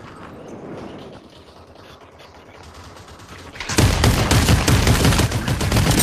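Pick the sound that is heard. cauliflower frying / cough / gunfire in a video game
gunfire in a video game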